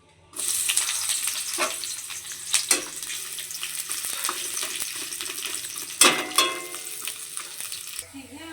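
Spices crackle in hot oil for dal. A loud, steady sizzle is broken by sharp pops and spits, close up, with no one talking.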